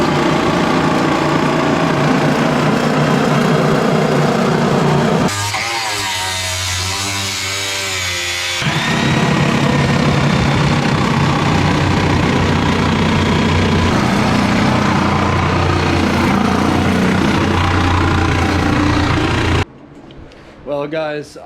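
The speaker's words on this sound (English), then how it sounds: "I'm gonna cut the other slit over there and work my way back now with the Sawzall on this side" A Sawzall reciprocating saw cuts through the sheet-metal floor of a Datsun 240Z restomod, a loud, continuous rasping buzz that holds for most of the clip, with a brief change in tone midway and a sudden stop near the end.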